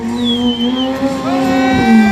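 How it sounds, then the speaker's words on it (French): Loud, continuous, high-pitched squeal from a stunt motorcycle's tire grinding on the rim just before it goes flat, at a 2018 stunt show in Orvault. The tone holds steady, then bends upward near the end, with engine noise beneath. "Ça commence à siffler au niveau du pneu, je pense qu'il va lâcher."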